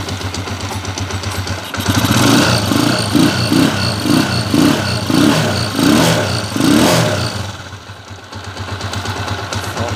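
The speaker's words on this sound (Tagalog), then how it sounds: "Smooth na yung motor ni boss." A repaired motorcycle engine, its earlier ticking knock now gone, runs close by, pulsing through a string of quick even revs before settling back to a steady idle.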